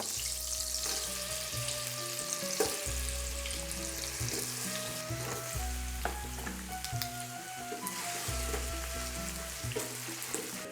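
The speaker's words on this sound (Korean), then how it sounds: "사과를 바로 넣어주도록 하겠습니다." Apples cook gently in butter in a pan for a tarte Tatin, making a low, steady sizzle with occasional stirring clinks beneath looping background music.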